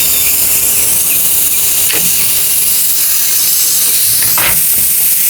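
Air hissing steadily from a leaking valve on a .22 caliber PCP airgun, a loud, close, unbroken high-pitched rush with a couple of brief sharper spurts.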